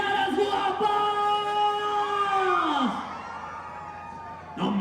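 A crowd of women at a jaripeo rodeo in San Miguel Tequixtepec, Oaxaca, lets out a loud, drawn-out collective shout that swells and then trails off, followed by a short burst of a new cheer.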